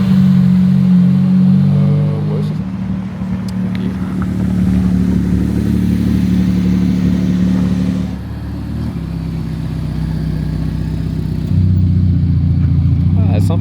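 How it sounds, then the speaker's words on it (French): A sports car engine rumbles and revs with a deep, throaty exhaust tone as its exhaust valves open, the pitch rising and falling, while people talk over it in Monaco. "le bruit quand les valves s'ouvrent"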